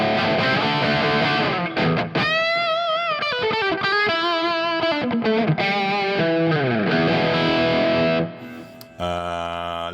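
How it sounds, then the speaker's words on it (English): Electric guitar played through a Genome amp modeler with a cabinet enhancer plus light reverb and delay. Distorted lead notes and bends ring out in phrases with echoing tails, and one brief pause near the end. "a little bit of reverb, a little bit of delay."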